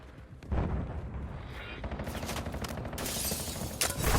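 Gunfire in the Call of Duty Warzone video game rattles in rapid bursts, growing louder with sharp volleys of automatic shots near the end.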